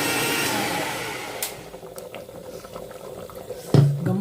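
Sambar with field beans, fenugreek leaves and potato boiling in a pot, a close, rushing bubbling hiss that gradually softens, ending with a brief clatter.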